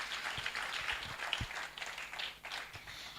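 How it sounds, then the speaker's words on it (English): Audience claps for Dr. Luidiko at a STEM event, faint scattered applause from a smallish crowd, thin and uneven with a few distinct nearer claps, quiet overall. "Could I have another round of applause for Dr."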